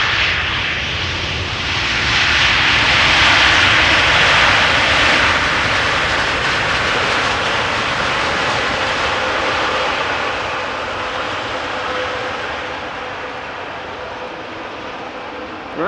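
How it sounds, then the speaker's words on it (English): A KLM airliner in its 100-years special livery moves at Amsterdam Schiphol Airport, giving a loud, continuous jet engine roar that swells through the middle and eases slowly. Rain or wind noise sits under it, and there is no speech. "KLM 100 years special livery."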